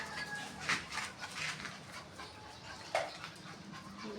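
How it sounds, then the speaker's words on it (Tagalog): Several dogs bark and yelp in scattered bursts, somewhat distant, heard from a rooftop over a noisy outdoor background. "Ay, pagkagulo ng mga aso."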